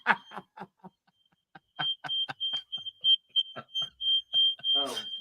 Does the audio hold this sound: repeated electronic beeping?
yes